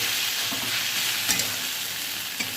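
Food fries in a pan as a loud, continuous sizzle, with a few soft stirring scrapes and clicks, heard alone and up close.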